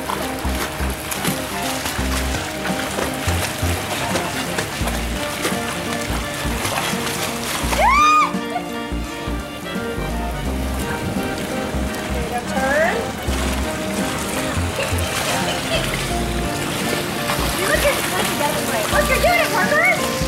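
A child learning to swim kicks and splashes in a swimming pool, a continuous watery splashing close by with voices talking over it.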